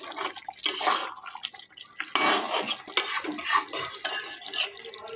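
A spoon stirs chicken bhuna with chopped coriander in a pan, giving repeated scraping and wet, sizzling clinks in an uneven rhythm, close and fairly loud.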